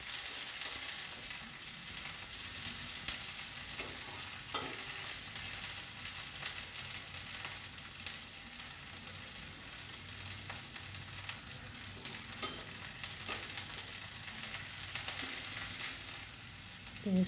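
Chopped onion with nigella seeds frying in hot oil gives a steady, close crackling sizzle, with occasional scrapes of stirring breaking through the continuous hiss.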